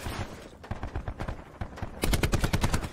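Gunfire in the Nuketown map of a video game, rapid bursts of automatic shots in quick succession, loud and close, with a denser volley toward the end.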